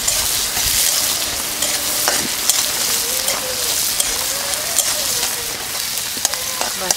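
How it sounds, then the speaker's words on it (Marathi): Finely chopped onion sautés in a pan with a steady, dense sizzle and crackle that runs close and loud the whole time, and an occasional stir breaks through. "बारीक चिरलेला कांदा, थोडंसं आपल्याला ना परतून घ्यायचं"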